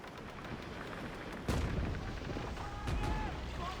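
Ship cannons firing in the naval video game World of Sea Battle, a sharp boom around the middle followed by a second heavier blast near the end, over steady game ambience.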